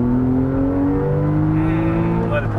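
A Porsche sports car engine revving hard, a loud sustained harmonic drone that climbs in pitch as it accelerates, heard from inside or close by.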